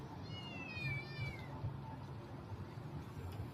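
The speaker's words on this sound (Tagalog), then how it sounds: "Ingay ng pusa." A hungry cat meows a few times early on, a rising-and-falling cry near and clear, then fades out as low background murmur and room noise continue.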